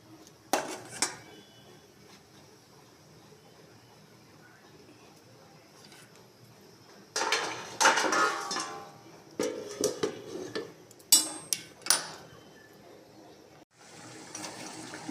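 A metal lid is set over a pot of rohu fish head and potato curry on the stove, with sharp metallic clatters and clanks in bursts after a quiet stretch, close by and with no talk.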